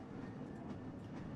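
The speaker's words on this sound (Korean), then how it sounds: "지금 마천 행열차가 들어오고 있습니다" A subway train arrives at a station in the video game Black Mesa, a steady, continuous rail rumble and clatter filling the scene with no speech.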